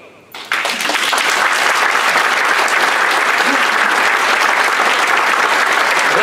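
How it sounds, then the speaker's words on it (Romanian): Applause bursts out after a brief quiet start at a political movement launch in a hall, then a loud, dense crowd clapping holds steady to the end. "aprobați, nu știu, prin aplauze."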